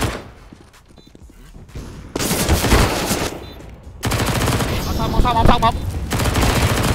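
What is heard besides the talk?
gunfire in video game Counter-Strike, Overpass map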